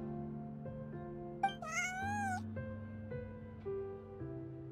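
A cat in Genshin Impact gives a single clear, rising-and-falling meow over soft game background music, close and distinct with no talk.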